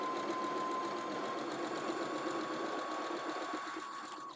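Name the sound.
sewing machine stitching fabric ties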